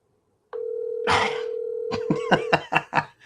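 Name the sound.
telephone dial tone while calling back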